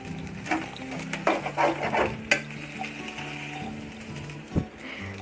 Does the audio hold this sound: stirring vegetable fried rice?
yes